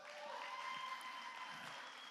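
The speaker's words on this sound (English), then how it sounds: "Give him a round of applause." Audience applause at a New York real estate conference panel, a steady dense wash of many hands clapping throughout, fairly distant and even in level, with a faint tone running beneath.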